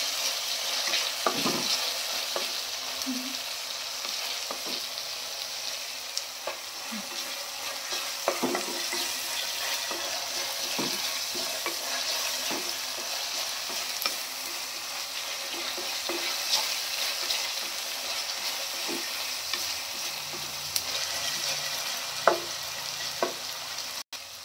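Onions with a pinch of salt frying in a pan for restaurant-style paneer bhurji, a steady soft sizzle broken by frequent scraping stir strokes and spoon taps, close and continuous with no talk.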